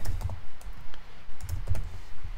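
Fingers type on a computer keyboard in short irregular bursts of close, soft key clicks with brief pauses between them.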